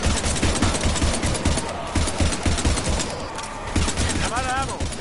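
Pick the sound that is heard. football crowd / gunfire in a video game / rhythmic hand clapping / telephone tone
gunfire in a video game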